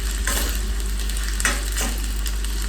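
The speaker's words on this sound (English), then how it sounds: "We're going to let this saute for about" Okra sautéing in a pan gives a steady, close frying sizzle with a few soft stirring scrapes, and no one speaks.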